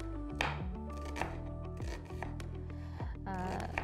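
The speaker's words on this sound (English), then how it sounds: "First, you need to finely chop the onion." Onion being finely chopped for Uzbek pilaf, a string of quiet knife strikes on a board at an uneven pace, faint under a steady background tone.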